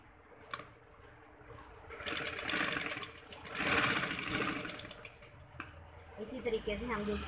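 A sewing machine stitches a bridal tail maxi dress in bursts, its rapid mechanical chatter rising and falling between short pauses, with clicks and handling noises around it.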